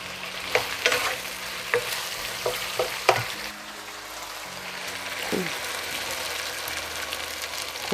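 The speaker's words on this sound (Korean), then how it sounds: "이렇게 해놓고 큰 불로 고추를 넣어주세요." Chili peppers stir-fried over high heat in a pan while braising chicken drumsticks, giving a steady, close sizzle with scattered clatters and scrapes of stirring throughout.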